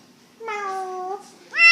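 A cat meows close by: one long drawn-out meow, then a short rising meow after a brief pause, loud and clear over a quiet room.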